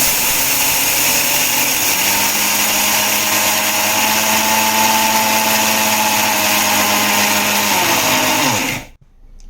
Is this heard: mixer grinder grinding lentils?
yes